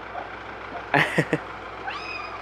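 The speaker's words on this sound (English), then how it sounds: "The only one that we kept was Athena, white and gray cat, which I just showed you" A white and gray cat meows indoors, a short run of close, clear mews followed by a thin higher cry, heard alone over low room hiss.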